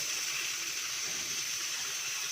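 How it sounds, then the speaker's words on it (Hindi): Water pours steadily into a cooking pot of village-style Punjabi beef paya seasoned with turmeric, a soft continuous gushing with no talk. "और अब थोड़ा सा पानी शामिल करेंगे इसमें"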